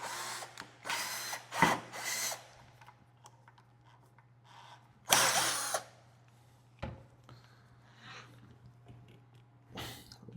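A budget cordless drill driver under test whines in short bursts of one or two seconds each, separated by pauses with handling clicks and a steady low electrical hum underneath.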